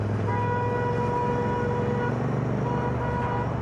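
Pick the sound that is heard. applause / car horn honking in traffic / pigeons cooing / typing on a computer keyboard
car horn honking in traffic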